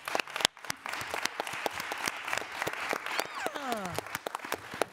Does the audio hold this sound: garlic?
no